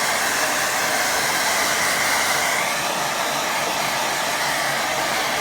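A hair dryer blows steadily over a watercolour painting of an evening fishing scene, giving a constant loud whooshing hum with no pauses.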